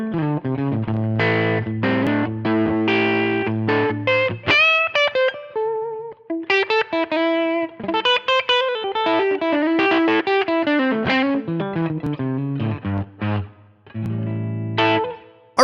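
Electric guitar played through a Line 6 Helix US Small Tweed amp model with a Fender-style crunchy distortion: strummed chords, then quick single-note runs and bends, loud and continuous with effects coloring the tone.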